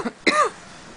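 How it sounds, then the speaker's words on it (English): Two quick coughs close up: a small one, then a stronger, rougher one that trails off into quiet. "I can't stop coughing."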